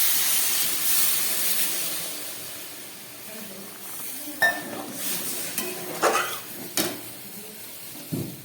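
Water poured into frying masala for egg curry sets off a loud hissing burst of steam that gradually settles, followed by a few sharp scrapes and clinks of a spoon against the pan.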